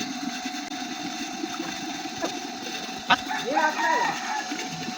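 A small water pump motor hums steadily at mid pitch throughout, with a faint click and a brief voice in the background.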